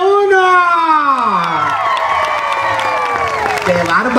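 A crowd at a rural bullfighting-day comedy show in Chalatenango cheers, whoops and claps for the first contestant, with loud shouting voices and children's cries rising and falling over scattered applause.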